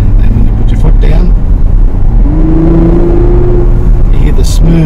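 A Mazda CX-60 GT's 3.3 litre inline six pulls away under acceleration, its steady low drone rising in pitch midway through, heard continuously and fairly loud over road rumble.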